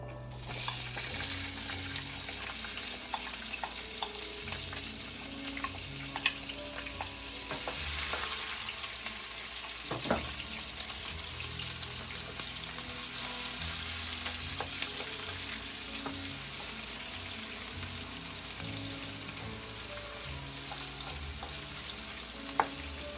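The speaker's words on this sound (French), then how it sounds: "je vais laisser mes oignons dorer pendant 2 à 3 minutes" Onions frying and browning in a pan for a bok choy and beef dish, a steady loud sizzle with occasional stirring and scraping clicks throughout, no voices.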